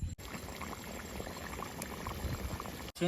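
A pot of khichuri bubbles at a steady boil outdoors, a continuous close bubbling and hissing with no break.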